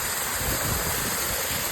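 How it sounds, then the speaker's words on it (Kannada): A small village waterfall pours water downhill with a constant, even rush that stays steady throughout this brief moment. "ಸಣ್ಣ ಫಾಲ್ಸ್ ಬರ್ತಾರೆ"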